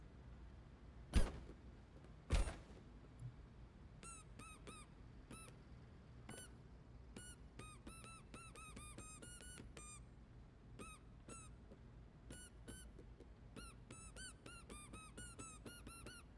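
Rubber toy duck squeaking repeatedly in the Crime Scene Cleaner video game, a long run of bright, close squeaks in quick irregular bursts, preceded by two sharp thuds.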